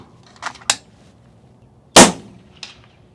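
An air rifle fires at 1-inch paper targets, giving several sharp, close pops spaced unevenly over a few seconds, with one much louder crack. Faint metallic ringing follows the shots against a quiet background.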